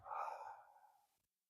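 A single soft exhale during a beginner yoga pose for the shoulders and wrists, a breathy sigh about a second long that fades out into silence.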